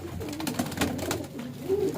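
Pigeons coo steadily and close by, soft throaty calls repeating and overlapping for a couple of seconds with no talking.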